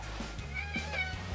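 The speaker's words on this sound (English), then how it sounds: "That's my cat!" Pet cat Mindy gives a short meow indoors, a single mid-pitched call rising over low room hum, with a faint voice nearby.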